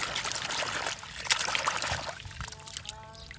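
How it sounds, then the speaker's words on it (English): Plastic toy truck shaken in a container of water, giving soft trickling and splashing sloshes up close, with a brighter splash partway through and faint background noise. "Now I bring one and shake it in water."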